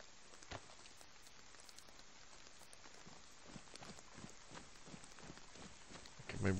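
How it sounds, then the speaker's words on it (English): Rain falls steadily in the survival video game DayZ, a faint, even patter with scattered soft ticks and a louder burst right at the end. "Maybe the rain will stop."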